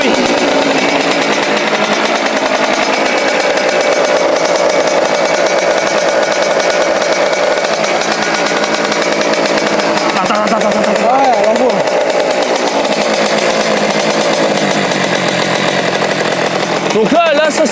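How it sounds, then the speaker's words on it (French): A 2021 Fantic XM motorcycle engine runs loud and close throughout, holding a steady buzzing idle with a couple of throttle blips, while people talk over it. "si tu peux nous la démarrer. D'ailleurs, on a oublié. Tu sais, mettre 2-3 coups de gaz."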